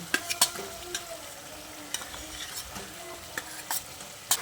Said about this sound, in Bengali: এবার এই পর্যায়ে এর মধ্যে ভেজে রাখা আলুগুলো দিয়ে দিচ্ছি।